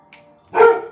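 A dog gives a single loud, close bark, preceded by a faint higher yip, with a household room setting behind it.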